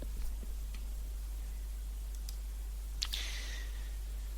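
A single faint mouse click on a computer's upload button, a short crisp tick against a quiet, steady room hum with a few softer ticks around it.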